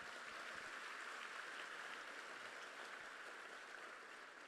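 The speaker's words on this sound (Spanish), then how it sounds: "dale un aplauso al Señor si lo crees" Church congregation applauding, a steady dense wash of clapping held at even loudness throughout, fairly distant and with no voice on top.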